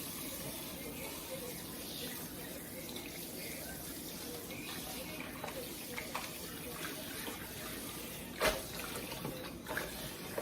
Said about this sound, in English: rinsing it off, final rinse off